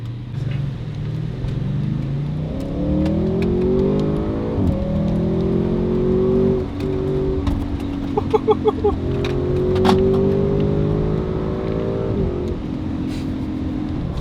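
Audi RS6 wagon with all-wheel drive pulling hard, its engine note climbing steadily through rising gears in a long, loud, continuous surge with brief shift breaks, heard from inside the car.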